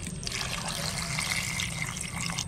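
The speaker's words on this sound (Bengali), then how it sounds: "সেদ্ধ আমড়ার মধ্যে একটু জল দিয়ে দেবো," Water poured from close by into a pot of boiled hog plums during home cooking, a steady trickling splash that runs for the full few seconds with no voices.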